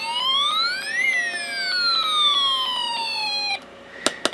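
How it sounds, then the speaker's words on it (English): An electronic siren from an Elenco Snap Circuits kit wails from a small speaker, its pitch sweeping up and down in smooth glides, then breaks into crackly clicks and buzzes at the end. "you should get something kind of like a siren now"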